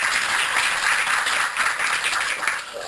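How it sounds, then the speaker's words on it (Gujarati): Audience applause at a Gujarati dealer talk show event, a steady, fairly loud wash of many hands clapping for about three seconds, fading slightly at the end. "તો આપણે એને તાળીઓથી વધાવી લઈએ પ્લીઝ"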